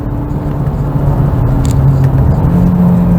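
A 2022 Hyundai Elantra N-line with a 7-speed transmission carries speed through a curve, its engine holding a steady low hum with a slowly rising tone, heard close from the cabin over constant road rumble.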